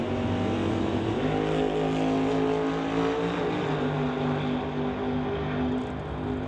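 Drag racing cars at a drag strip, a Corvette and a Beretta, roar together in a loud sustained engine drone with layered revving tones that hold steady, then rise slightly as the cars launch, no talk.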